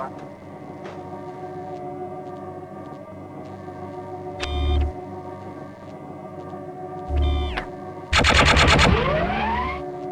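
Pistol fire at a target range in Gunman Chronicles, with two short separate bursts followed by a longer dense rapid-fire string near the end, all over a steady droning game background.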